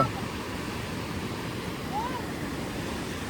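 Sea waves wash onto a beach at high tide in a steady, rushing roar mixed with wind noise, heard up close with faint voices in the background.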